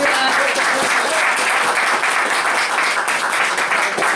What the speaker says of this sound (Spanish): Démosle un aplauso fuerte